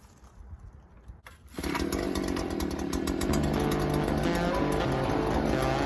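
Gas-powered post hole digger engine catching on a pull start, a quiet rustle giving way to a sudden loud two-stroke roar that settles into a steady, close idle.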